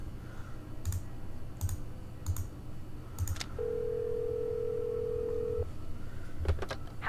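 A telephone call placed in a video game: a few sharp keypad clicks, a steady held tone for about two seconds, then more quick clicks, with no voices.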